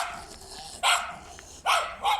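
A dog barks nearby at a cattle sale in Pakistan: three loud, sharp barks, two close together near the end, over a quiet background.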